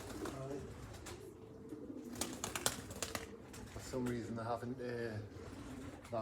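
Pigeons coo and murmur close by while someone talks over them, with occasional clicks and wing flutters.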